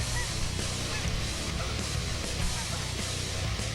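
Canada geese honking over a cornfield during a goose hunt, a dense steady chorus of many overlapping calls at moderate distance with no talk.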